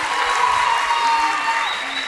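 Sustained audience applause for the whole team at a festival competition event, steady and fairly loud throughout, with voices audible beneath the clapping.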